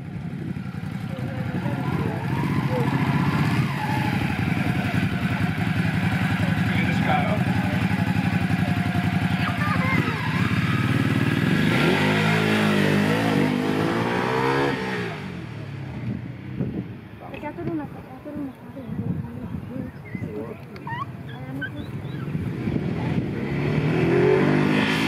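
A motorcycle on a riding training course, a loud close engine drone that revs and rises in pitch as the bike pulls away, then fades and returns with further revving, with someone talking over parts of it.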